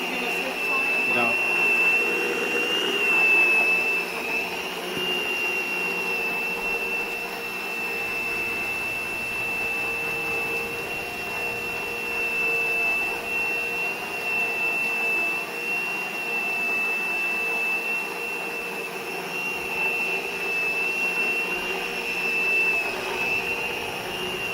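A Lindhaus carpet cleaner runs in a store with a steady droning motor and a high whine, continuous throughout, with voices talking faintly in the background.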